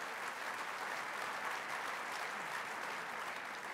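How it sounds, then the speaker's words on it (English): An audience at a State of the City address breaks into sustained applause, a dense, even roar of many hands clapping from a distance, quiet overall and without speech. "Yes, I think that deserves a round of applause."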